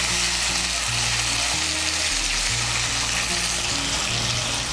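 Ginger paste with a splash of water being mixed in a hot pan for a paneer curry, a loud, dense, continuous sizzle with a low hum underneath, up close and unbroken by speech.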